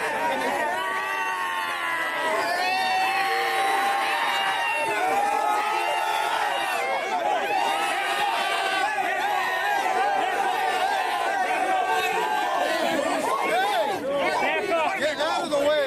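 A crowd at an anti-Islam rally outside a library at night shouts and chatters continuously, a dense mix of overlapping raised voices with no single clear speaker, steady and fairly close throughout.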